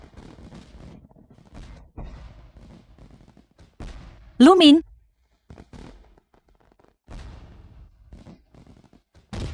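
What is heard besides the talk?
fireworks exploding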